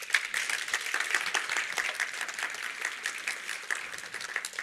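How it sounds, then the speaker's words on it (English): Audience at a cancer care conference applauding, a dense, steady wash of many hands clapping throughout, moderately close and without talk. "Please give her an applause as well."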